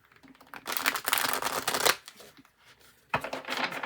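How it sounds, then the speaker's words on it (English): Playing cards are riffled and shuffled up close during a tarot reading in two dense bursts of papery flutter, separated by a quieter pause, with no one talking. "Okay, give me a moment, y'all. I gotta shuffle."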